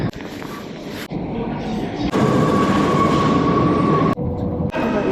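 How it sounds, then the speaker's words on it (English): A Paris Metro train runs on the line toward Château de Vincennes: a loud, dense rumble with a steady whining tone, cut by abrupt shifts in level as the carriage moves through the tunnel. "Metro."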